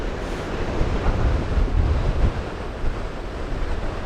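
Waves wash onto Blackpool beach on the open shore as wind buffets the microphone, making a loud, rumbling roar that swells and eases with no voices.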